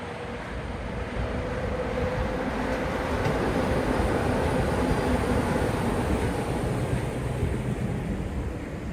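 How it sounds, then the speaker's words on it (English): An orange monorail pulls into the Magic Kingdom station at Walt Disney World, a steady rumbling roll with wind noise that swells slightly as it arrives. "We got this orange monorail coming in."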